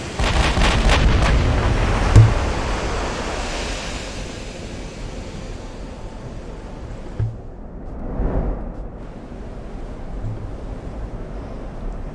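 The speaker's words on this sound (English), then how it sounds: "the battleships actually sound like battleship guns" Heavy battleship guns fire in a naval combat game: a dense burst of booming shots at the start, then a rolling wash like surf and wind, with a few distant thuds later.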